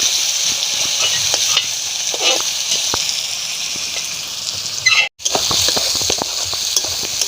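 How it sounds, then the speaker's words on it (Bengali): Sliced tomatoes fry for a country chicken curry, a loud continuous sizzle with scattered crackles and scraping stirs, briefly cut off near the end before resuming. "এবার আমি টমেটো ভালো করে ভেজে নেব।"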